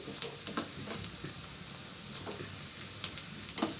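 Semiya vermicelli fry in a pan, giving a steady bright sizzle with scattered small pops and occasional stirring scrapes, close and moderately quiet.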